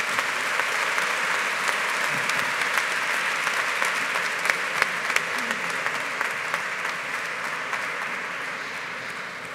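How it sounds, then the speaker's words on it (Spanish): A crowd applauds steadily with dense, sustained clapping that fades slightly toward the end. "Muy bien, un aplauso para Lluís, por favor."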